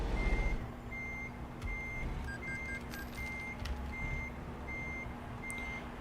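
A truck in American Truck Simulator reverses, its backup alarm beeping at a steady, evenly spaced rhythm over a low engine rumble, with no one talking.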